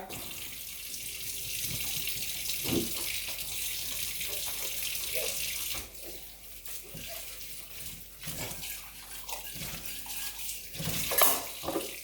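Dishes are washed under a running tap of cold water, a continuous rushing stream with intermittent clatter and splashing up close.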